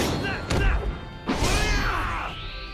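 A shooting slash attack in the video game Fairy Fencer F lands as two heavy crashing impacts, each followed by a ringing, whooshing metallic sweep that trails off.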